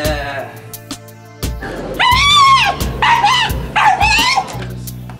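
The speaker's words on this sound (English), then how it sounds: "Yo, did that dog just call me a dirtbag?" A dog barks and yips with whiny, voice-like wails and moans, loud and close, in several bursts separated by brief pauses.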